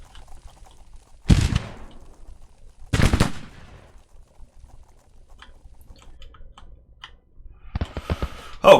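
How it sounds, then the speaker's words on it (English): Artillery in the Civil War strategy game Grand Tactician: two loud, sharp cannon booms a couple of seconds apart in a quiet scene, followed near the end by a rattling cluster of further discharges. "This is artillery."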